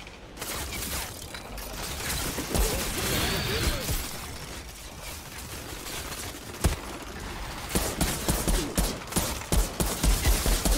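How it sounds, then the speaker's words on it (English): Pistol gunfire in a fast-paced video game, with rapid sharp shots and mechanical clatter mixed into a dense, noisy game soundscape, growing into a quick rhythmic burst of shots toward the end. "Picking them off, man, with a damn pistol."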